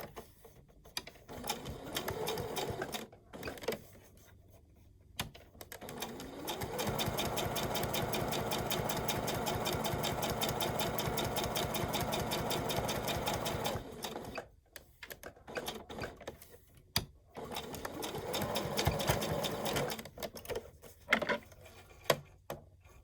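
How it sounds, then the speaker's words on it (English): An electric sewing machine stitches fabric for a snap-on bag in short bursts, with one long steady run in the middle and brief pauses and handling between, close and fairly quiet. "You're sewing back over where you just sewed."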